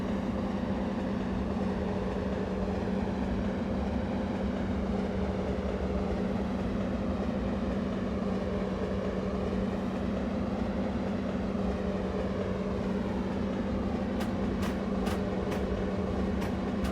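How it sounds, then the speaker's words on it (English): A Dutch train in Train Simulator Classic running through a platform, heard from outside as a steady droning rumble with a constant tonal hum, a few brief clicks near the end. "we'll do an exterior view to show you the train going through the platform"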